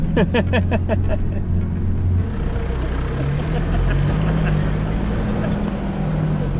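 A vehicle labors through thick sand on narrow rural roads in Mozambique, its engine droning and revving with a low rumbling tone that shifts in pitch, loud and close throughout.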